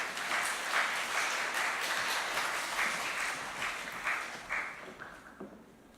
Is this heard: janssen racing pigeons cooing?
no